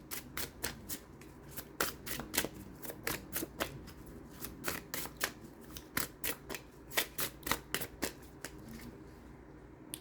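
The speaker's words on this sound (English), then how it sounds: "let's pull these cards" Tarot cards being shuffled by hand, heard close and fairly quiet as a long series of crisp riffling flicks in an irregular rhythm, with no talking.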